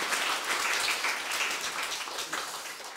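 A church congregation claps through a Sunday morning service, a steady, fairly distant wash of applause that holds even and unbroken, with no voices on top.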